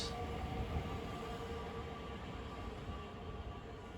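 A South Shore Line commuter train rumbles past with low, steady rolling noise and a faint high whine, heard from a moderate distance without any voices.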